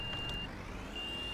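Garbage truck in the Cityconomy city-service game sounding steady reversing beeps, a continuous high tone that cuts out briefly mid-way and returns, over a low engine rumble.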